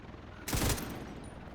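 A single short burst of gunfire in The Division, fired at buoys on the water, rings out loud against a steady low ambient background.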